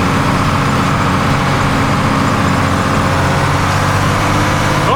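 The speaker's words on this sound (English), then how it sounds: "We're driving on a gorgeous little Swedish rural dirt road" A vintage overland truck drives along a rural Swedish dirt road, its heavy engine droning steadily and loudly from the cab with a low rumble throughout.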